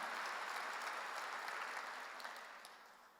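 Church congregation clapping together during a sermon at a Korean church, a steady dense wash of applause that holds evenly and then slowly tapers off toward the end, with no voices over it.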